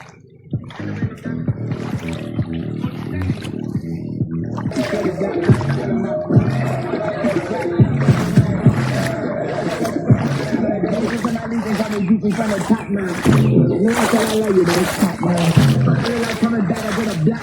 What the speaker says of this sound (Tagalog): Tawid ilog na naman.